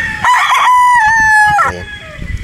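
A Boston Roundhead broodstag rooster lets out one loud, close crow that holds steady before breaking off, followed by faint scuffling.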